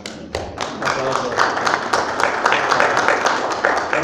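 An audience at a book presentation event claps together in a dense, steady burst of applause that lasts throughout, with sharp individual claps standing out close by.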